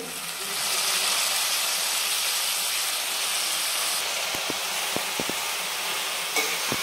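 Radish leaves hit a hot pan of softened tomatoes and sizzle with a steady, bright hiss, and a few faint clicks and taps sound near the end.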